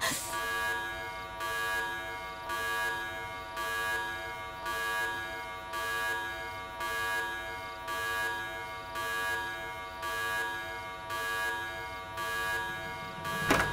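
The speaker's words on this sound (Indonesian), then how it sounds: "Alarm EJ sudah berbunyi." An alarm goes off in repeated buzzing pulses, roughly ten even bursts about a second apart, loud and alone with no voices.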